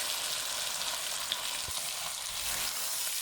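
Chicken drumsticks fry in a pan with lemon, giving a steady, soft sizzle and crackle throughout, close by and alone with no talking.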